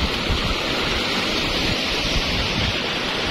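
Swift floodwater rushes past a gabion flood embankment on a volcanic river, a dense, continuous roar that fills the scene with steady turbulent hiss and low rumble.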